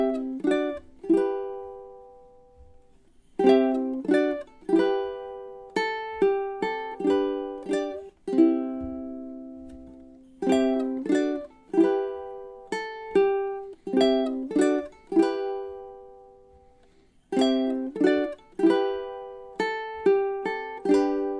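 A solo ukulele plucks the verse of a song, bright single notes and small chords in repeating phrases, each ringing briefly and then fading before the next figure, close and clear.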